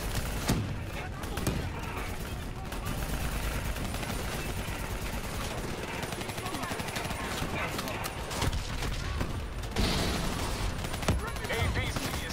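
Rapid gunfire aimed at a VTOL aircraft in a shooter video game, dense bursts under a loud, busy battle mix, with voices talking over the shooting.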